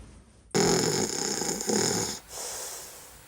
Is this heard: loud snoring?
yes